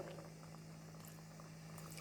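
A steady, close bubbling and low rumble of milk boiling in a pot for jackfruit payasam, continuous and fairly quiet with no talking.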